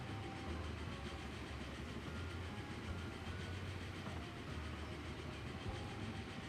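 A train ride in the video game Transport Fever 2 rolls along with a steady low rumble and rhythmic clickety-clack of railcar wheels, continuous and fairly quiet with no voices.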